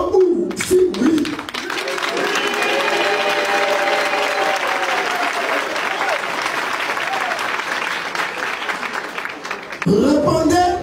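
Sustained applause and cheering from an assembly voting a motion of warning against the president by acclamation, a dense steady wash of clapping with voices breaking through at the start and end.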